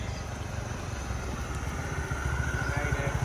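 A motorbike rides along a jungle road on Koh Chang, Thailand, with a steady, rumbling engine drone and wind noise that grows slightly louder toward the end.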